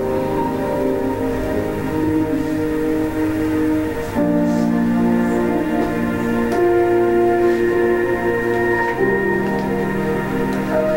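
A train horn blares in long sustained chords that shift pitch several times, loud and continuous over a steady rumbling background, with no voices.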